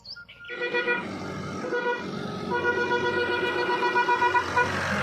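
A vehicle travels a hill road in the Pahad region toward Jamni Khal, with pilgrims heading to the Maa Chandravani temple. Several clear horn toots sound over a steady engine drone as it passes at moderate distance.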